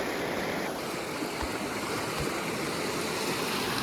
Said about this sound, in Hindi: इस साइड से आ रही है नर्मदा जी बहते हुए अमरकंटक से।